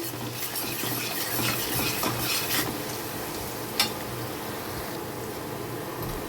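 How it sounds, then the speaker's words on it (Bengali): Garlic paste fries in a pan with softened onions, a continuous close sizzle with occasional stirring scrapes and one sharp utensil clink partway through. "এখন রসুনটাকে একটু আমি ভেজে নেব"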